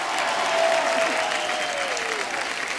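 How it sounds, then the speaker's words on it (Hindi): Studio audience at a TV comedy show applauds the full star cast of the film Bhuj, a steady, dense wash of clapping throughout, with a faint tonal hum running beneath. "एक बार भुज की पूरी स्टार कास्ट के लिए जोरदार तालियां हो जाए"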